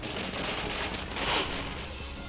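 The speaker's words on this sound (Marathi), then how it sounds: "कार्यकर्त्यांनी फटाके फोडून आपला आनंद साजरा केला" Firecrackers bursting as party workers celebrate at a political gathering, a dense run of rapid cracks and pops packed together over a couple of seconds with no clear gaps, loud and close.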